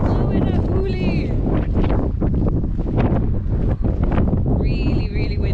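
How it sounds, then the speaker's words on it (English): Strong gusting wind buffets an open hillside campsite in Scotland, roaring loudly and continuously across the whole stretch with a steady rumble, while people talk over it in the foreground. "Really, really windy."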